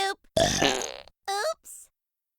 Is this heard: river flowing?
no